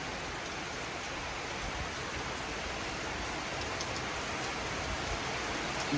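Heavy, windy rain drums on the metal sheet roof of a shed in a dense, constant hiss with no let-up, heard from underneath.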